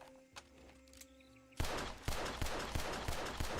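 Pistol fire in Red Dead Redemption 2: after a quiet stretch, a loud burst of repeated shots breaks out, several close cracks in quick irregular succession.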